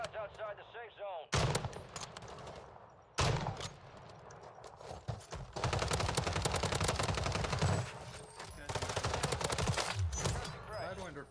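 Rapid automatic gunfire in Call of Duty Warzone Rebirth, loud close bursts of machine-gun rattle separated by brief pauses, with sharp single shots and sustained strings of rounds.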